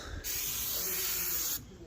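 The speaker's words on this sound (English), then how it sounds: "And just spray the cables." A steady hiss of an aerosol lubricant spray can coating lift cables runs for over a second, close and continuous, with quieter background sounds before and after.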